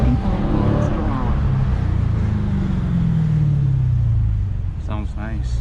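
A 2022 Dodge Challenger Scat Pack Widebody's engine roars loudly and steadily as it accelerates, the pitch climbing under sustained throttle, with brief talk from people inside the car near the end.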